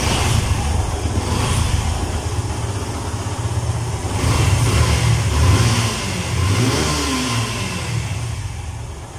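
Revving of a used 2018 Yamaha FZ-S V2 motorcycle engine, about 13,258 km on it, running steadily close by, with throttle blips swelling around the middle and a low rumble throughout, no talking.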